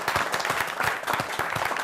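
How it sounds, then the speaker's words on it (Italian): An audience at an Italian television music show applauds after a performance, a brief burst of close, moderately loud clapping with an uneven rhythm and no talking over it. "Ancora un applauso"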